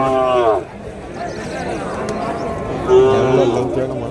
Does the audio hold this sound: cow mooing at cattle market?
yes